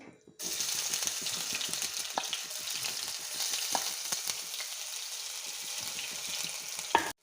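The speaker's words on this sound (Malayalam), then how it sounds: "നമ്മൾ ചൂടായ എണ്ണയിലേക്ക് ഇഞ്ചി വെളുത്തുള്ളി പേസ്റ്റ് നമുക്ക് ഇട്ട് കൊടുക്കാം." Ginger garlic paste dropped into hot oil for a prawn roast bursts into a loud, continuous sizzle with crackling pops, steady for several seconds before cutting off, heard alone up close.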